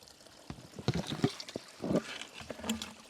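Water pours into a Lifesaver jerry can that is nearly full, making close, faint splashes and gurgles in uneven bursts.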